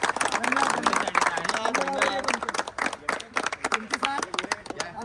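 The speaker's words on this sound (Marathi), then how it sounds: "कमिटीसाठी पण टाळ्या वाजवा रे." A crowd at a turf cricket tournament claps for the organizing committee, rapid scattered hand claps mixing into applause while voices talk and shout over it.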